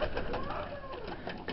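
A grey pigeon from the Netherlands, kept in a Bulgarian loft of Chinese owl pigeons, gives soft, low, rolling coos. The calls are faint and close over a steady hum of background noise.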